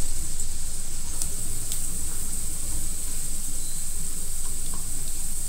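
Chili sizzles steadily as it is stir-fried with onion for Chinese-style fried rice made from leftover rice, a constant close hiss broken by a few faint ticks of the spatula.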